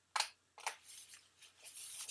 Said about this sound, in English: And I'll just use my big scissors.